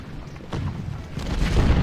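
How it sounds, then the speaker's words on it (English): Artillery fire in the Ultimate General: Civil War game during a Union river crossing, with deep booming blasts that swell into a heavier rumbling barrage toward the end. "Are we chasing off the enemy artillery?"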